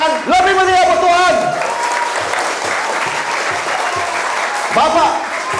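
Applause from a church congregation for God during an evangelist's sermon: loud, dense clapping that fills the space throughout, with voices calling out and speaking over it near the start and end.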